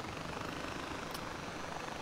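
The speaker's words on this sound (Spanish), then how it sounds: "Que prefiero coger el helicóptero porque voy más rápido." Helicopter in the Far Cry 4 video game, a steady broadband rotor and engine roar holding at an even level throughout, with no talk over it.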